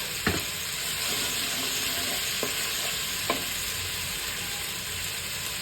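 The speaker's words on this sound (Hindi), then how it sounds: "इसकी खुशबू आने तक हम इसको इसी तरह से चम्मच चलाएंगे।" Cardamom pods frying in a pan, stirred with a spoon at the start of a chicken shami kabab: a steady close sizzle with a few sharp spoon scrapes against the metal, no talk.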